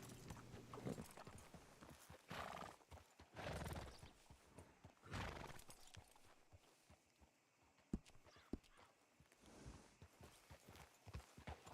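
Horse hooves clip-clopping with an occasional whinny in the Wild West roleplay game WildWestRP, loud bursts of movement coming and going over about twelve seconds.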